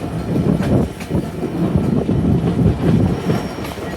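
Intercity Ruposhi Bangla Express train running along rails near Jessore, a steady close rumble with rhythmic wheel clatter and faint squeals throughout, no voices.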